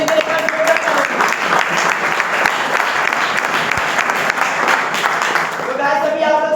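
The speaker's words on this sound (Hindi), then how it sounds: "थैंक यू लीडर्स, में चाहते हैं इनके लिए एक बार जोरदार तालियां।" An audience claps loudly and steadily throughout a live stage event, a dense wash of applause with a few faint voices underneath.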